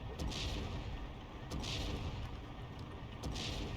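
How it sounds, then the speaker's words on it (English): Mortar fire from 81mm tubes in Steel Division 2 lands in a slow series of three muffled, distant blasts spaced over a few seconds, each a short crack over a constant low rumble of battlefield ambience. "The 81mm mortars are actually targeting the Firefly."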